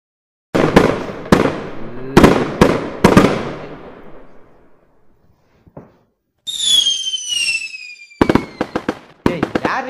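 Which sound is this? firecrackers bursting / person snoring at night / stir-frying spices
firecrackers bursting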